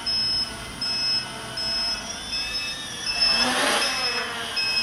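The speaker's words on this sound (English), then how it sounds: "That buzzer's killing me" A buzzer on a Walkera QR X350 Pro quadcopter fitted with a Mini APM beeps in steady repeated tones over the hum of the craft's motors during a flight test, with a brief rise in rotor noise midway.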